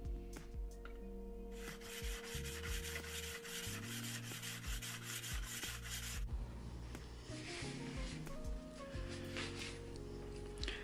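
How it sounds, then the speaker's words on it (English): Steel chisel back being flattened by hand on a 400-grit diamond sharpening plate, a steady close scraping rub in repeated back-and-forth strokes, with no talking. "I started off with the 400 grit diamond plate, then moved up to the 600 grit"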